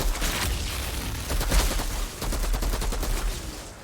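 Rapid bursts of gunfire from a new gun in a video game, loud and continuous with dense overlapping shots and brief dips between volleys.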